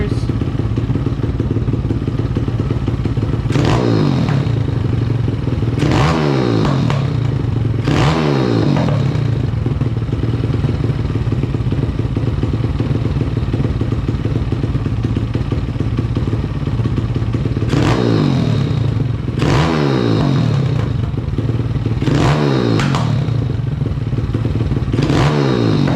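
A 190cc pit bike fitted with a new intake, revved hard in a garage in several bursts, each rising and falling sharply over a steady idling rumble, with two clustered blips early and more near the end.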